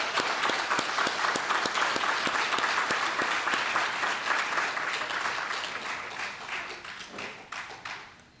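Gathered guests at the Grand Rapids Art Museum applaud the poster competition artists, a crowd's clapping with a few sharp, rhythmic claps standing out at first before the sound gradually thins and fades.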